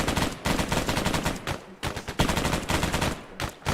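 Bursts of automatic gunfire in the video game Arma 3, loud, close and rapid, coming in several sustained volleys separated by brief pauses.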